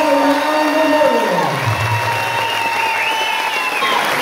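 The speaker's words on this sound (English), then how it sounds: "Let's bring the house down with a round of applause for every veteran here with us tonight and around the world." A large audience at an evening event applauds and cheers for veterans, a loud, continuous roar of clapping with scattered whoops and shouts throughout.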